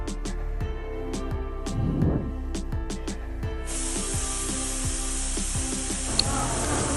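A pressure cooker on the stove cooking cabbage and dal lets out a sudden loud, steady hissing whistle, preceded by rhythmic clicks and rattles from the kitchen.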